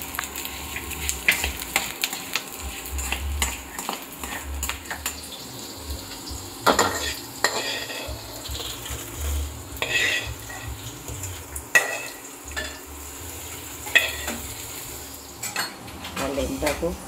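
Wheat flour being dry-roasted and stirred in a metal pan, with steady scraping and rustling, repeated clinks and knocks of the spoon against the pan, and a soft sizzle underneath, close and fairly loud.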